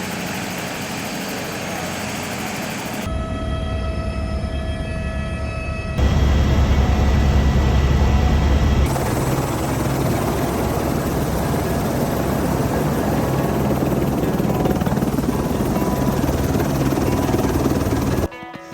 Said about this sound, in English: getting in a helicopter and getting out to Mount Cook